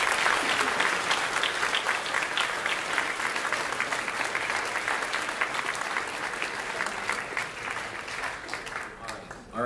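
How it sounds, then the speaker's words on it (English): An audience at a 2024 Beckman awards assembly gives sustained applause for seniors, with dense, loud clapping that slowly thins toward the end, mixed with some voices. "Let's give a round of applause to these seniors."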